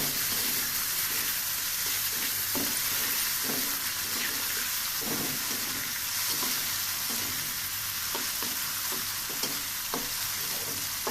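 Washed rice and dal frying in hot oil with onions in a pan, a loud continuous sizzle close by with scattered scraping and clinks from a spoon stirring, no speech.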